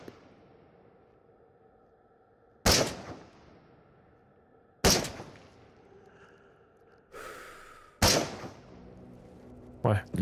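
Sniper rifle shots fired in the VR game Into the Radius, four sharp loud cracks spaced a couple of seconds apart with short decaying tails, heard over quiet ambience and faint breathing.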